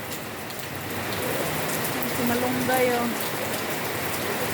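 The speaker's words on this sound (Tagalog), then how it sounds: "Lakas ng ulan." Heavy typhoon rain pours in a steady, dense roar outdoors, with a voice speaking briefly over the downpour.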